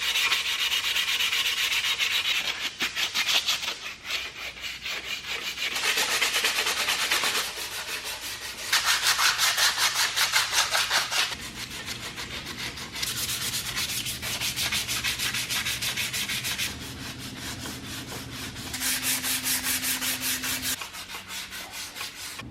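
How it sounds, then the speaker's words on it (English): Sanding oxidized, flaking paint off a motorcycle down to bare metal, a steady abrasive rubbing that runs continuously in loud sustained passes, with a faint low hum in the background and no talking. "I had to sand it down to complete bare metal to make it flat"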